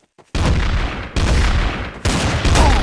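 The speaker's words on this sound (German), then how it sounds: "die wollen ja, dass sie sicher gehen und schießen auf die Leiche dann" Video game gunfire in Trouble in Terrorist Town as players shoot at a corpse: three loud bursts of rapid automatic fire, each lasting under a second, close and harsh, with short gaps between them.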